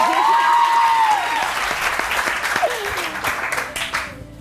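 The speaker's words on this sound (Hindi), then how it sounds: "नहीं आप तालियां बजा" A studio audience claps in dense, loud applause on a morning television show while a voice speaks over it, the clapping thinning out toward the end.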